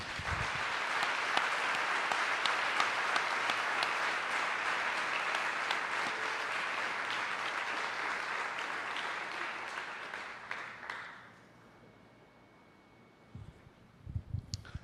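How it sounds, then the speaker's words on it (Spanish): A church congregation gives a loud, dense round of applause for about ten seconds, then it tapers off and fades. A few scattered claps and knocks follow near the end. "le vamos a dar un fuerte aplauso al Señor"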